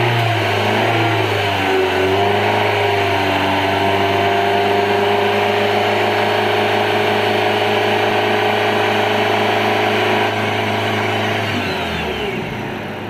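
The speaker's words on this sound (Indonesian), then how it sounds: "kita akan gas 2000 RPM. 2000 RPM. Silakan kawan-kawan mendengarkan seperti apa suara mesin" Engine of a used Nissan Evalia car held at a steady rev around 2000 RPM, a loud continuous hum and whir heard up close with no talking, easing slightly at the end.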